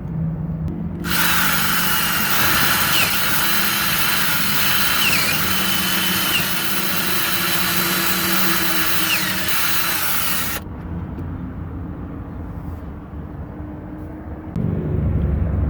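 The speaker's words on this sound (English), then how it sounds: "after drilling at it forever and ever, I finally got the lock cylinder to turn" A cordless drill whines loudly and steadily for about ten seconds while drilling out the ignition lock cylinder of a 1995 Chevrolet Cavalier, then cuts off, leaving a low background hum.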